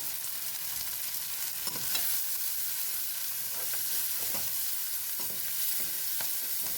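Sliced onions sizzle in a pan with a spoonful of turmeric powder, a steady close frying hiss broken by a few soft stirring scrapes, with no voices.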